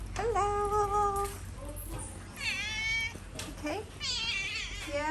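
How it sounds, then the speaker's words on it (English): Several stray cats meow repeatedly at an elderly woman's feeding spot, their rising cries close and clear, with a person speaking briefly between them. "I have a few cats here"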